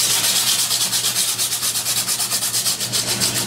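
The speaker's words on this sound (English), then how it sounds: "Use your emery cloth," Emery cloth rubbed around a pipe to clean it before a pinhole repair with a Trident Seal kit, giving fast, steady back-and-forth scraping strokes, close and loud, with no talking.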